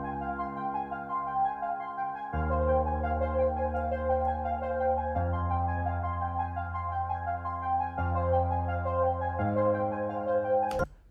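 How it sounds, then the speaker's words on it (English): A lone synth melody sustains through long, evenly paced chord changes with no voices, ending in a brief sharp click. "a section where it's just that synth sound by itself"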